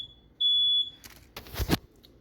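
A smoke alarm in a kitchen, set off by cooking while water boils, gives a high, piercing beep, first briefly and then held longer, followed by some clattering noise.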